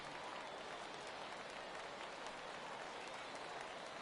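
A stadium crowd in the baseball game MLB The Show 18 cheers steadily on a 3-2 count, a dense, even roar of noise with no breaks, heard alone.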